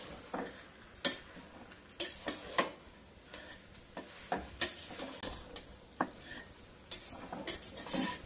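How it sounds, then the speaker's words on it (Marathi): Raw mango pieces sautéed in ghee in a pan over high heat, with repeated scraping and clinking of a spatula against the pan, irregular taps and stirring strokes, close and moderately loud, no talking. "थोडंसं परतून घेऊया मस्तपैकी तुपामध्ये"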